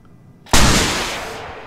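A single loud, close gunshot booms out in the video game Squad after a brief quiet moment, its blast decaying into a long rumbling echo.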